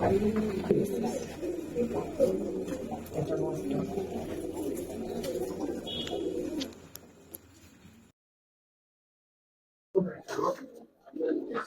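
Giribaz pigeons coo and rustle close by while being held and handled, a murmuring low texture under a talking voice, then a silent gap before brief bumps and a spoken word.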